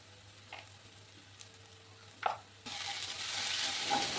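Ground spices being stir-fried for a mutton liver curry: quiet scattered scrapes and taps at first, then a louder, steady sizzle takes over close by for the last part.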